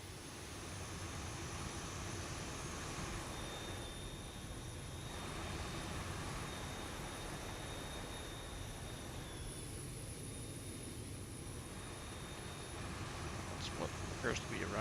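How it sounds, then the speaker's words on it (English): A Boeing 737 jet engine runs steadily at idle in a flight simulator game, giving a constant broad whine and rumble with a thin high tone, fairly loud, with no talk over it. "Yes, that is a running engine indeed."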